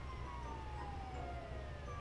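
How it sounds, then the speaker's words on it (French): An ambulance siren from the video game GTA 5 wails faintly and steadily under a low rumbling background, sounding distant as it approaches. "Il y a l'ambulance qui arrive."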